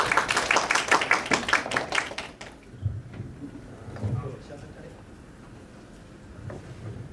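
A burst of applause from a crowd, quick rhythmic claps for about two seconds, then fading into quiet room sounds and faint movement.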